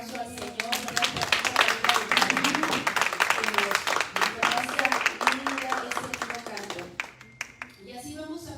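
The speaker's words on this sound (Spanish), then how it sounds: "Vamos a darle una vez más un aplauso al Señor" Inside a church, the congregation claps rhythmically in praise of the Lord while a voice speaks or sings loudly over the top, and the clapping thins out toward the end.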